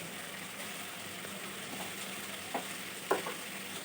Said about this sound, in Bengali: ইলিশ মাছের মাথা লেজ দিয়ে আমি ইলিশ মাছটা কিছুক্ষণ ভালোভাবে কষিয়ে নিব